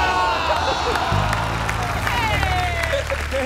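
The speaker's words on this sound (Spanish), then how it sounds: "El público aplaudiendo" A studio audience applauding on a late-night TV show, steady clapping and crowd noise throughout, with voices and music-like tones over it.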